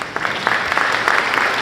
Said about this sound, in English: let's give our Board of Education a round of applause